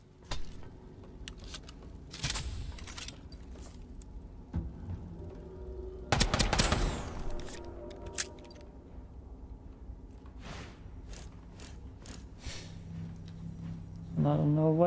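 Sporadic gunfire bursts from the Starsiege Deadzone alpha playtest during solo PvP, a few sharp loud volleys around the middle with quieter game ambience and a low engine-like hum between them.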